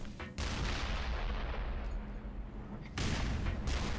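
A grenade blast in the Black Mesa shooter game erupts as a loud boom with a rumbling tail, and a second burst of blast and gunfire noise follows near the end.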